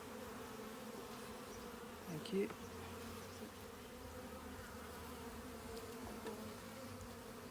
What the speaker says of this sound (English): There's a bee in the gap.